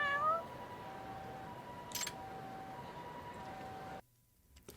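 A cat in the video game Judgment gives a short meow at the start, followed by a steady hum of background ambience that drops out near the end.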